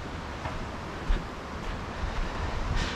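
Wind blowing outdoors in Norwegian mountains, a loud buffeting rush with microphone gusts that swell and ease, close and continuous, with no voices.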